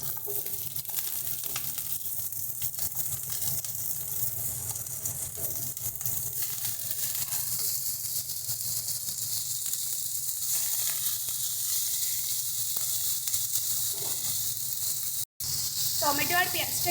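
Chopped tomato and onion hit hot oil already crackling with dried chilli, curry leaves and mustard seeds, giving a loud, steady hissing sizzle that fills the whole stretch with a brief break near the end.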